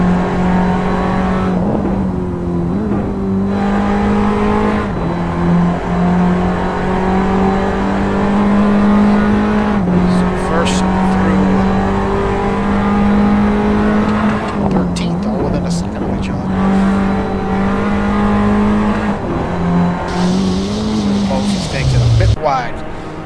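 Formula Abarth open-wheel race cars scream around Barbagallo Raceway on a flying lap, a loud sustained high-revving engine note rising and falling through gear changes, with a commentator talking throughout and the engine cutting off sharply at the end.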